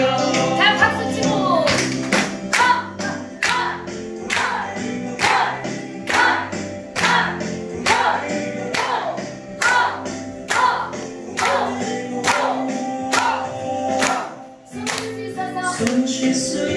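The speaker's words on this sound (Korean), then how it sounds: "다 박수 치고" A group claps hands in a steady rhythmic beat along with a cheerful song during a sing-along movement exercise class, the claps sharp and regular over music throughout.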